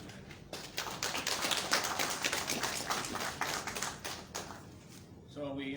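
An audience claps for a senator at a Liberian passport rebranding ceremony, fairly loud irregular applause lasting several seconds before fading, with a voice briefly heard at the very end.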